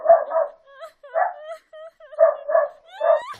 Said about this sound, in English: The dogs were barking.